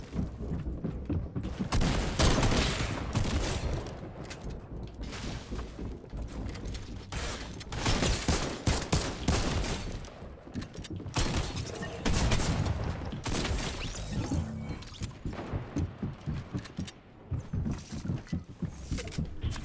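Dense, rapid gunfire bursts and booms in a shooter video game with a heavy sniper rifle, forming a chaotic barrage of overlapping shots that fluctuates in loudness across twenty seconds.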